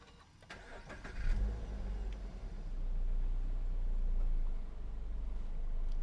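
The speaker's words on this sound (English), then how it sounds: "I'm going to start up the car." Subaru BRZ with a six-speed manual starts up: a brief crank and catch, then the engine settles into a steady close idle that rises slightly, with no talking.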